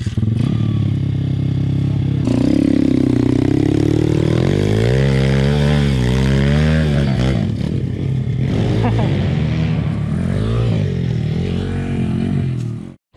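A small Pitgang 140XD pit bike engine, new and being run in, revs up and down loudly and close by, its pitch climbing and wavering, with voices talking over it.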